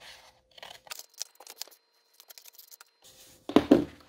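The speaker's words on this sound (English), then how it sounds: "So please cut all pages one at a time." Scissors snip through paper pages one at a time, giving a series of short, crisp close cuts and rustles in irregular bursts, ending in a louder paper-handling rustle, with no talk.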